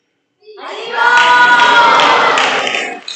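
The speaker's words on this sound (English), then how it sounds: "The bow broke in pieces, and there was great cheering." A large crowd at a Sri Rama Navami festival bursts into loud cheering that swells and holds for over two seconds as a dense, roaring wall of voices and claps before fading slightly.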